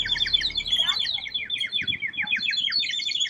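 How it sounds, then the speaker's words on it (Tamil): Toy bird water whistle filled with water, warbling in a steady run of bright, rapid chirps and trills that go on throughout, close and fairly loud. "தண்ணி ஊத்துனா தண்ணி ஊத்துனா சத்தம் போடும் குருவி"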